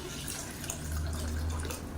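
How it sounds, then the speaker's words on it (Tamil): Water is poured into a vessel of washed rice during idli and dosa batter prep, producing a soft, steady splashing trickle that runs close by and fairly quietly for about two seconds. "தண்ணி ஊற்றிக்கலாம்"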